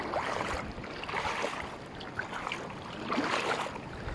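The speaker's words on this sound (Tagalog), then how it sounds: "yung hampas ng kanyang alon" Sea waves surge and crash against a rocky coastal formation in Lian, Batangas, a continuous roar of surf with wind and spray, moderately loud and with no talking.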